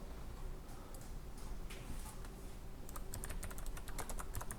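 Rapid keystrokes on a computer keyboard while code is entered for a React component, sparse at first and then a dense run of crisp clicks, close and moderately loud with no talking.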